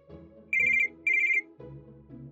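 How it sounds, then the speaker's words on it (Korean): A telephone rings at night with two bright electronic trills, each about a third of a second long, sounding over a soft musical background. "그날 밤 전화."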